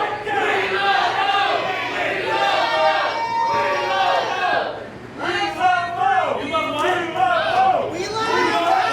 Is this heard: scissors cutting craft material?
no